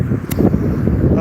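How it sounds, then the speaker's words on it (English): Steady outdoor wind in Coolock buffeting a microphone, a low rumbling roar with a brief gust burst, continuous throughout at close range. "Sorry about if it's a bit windy."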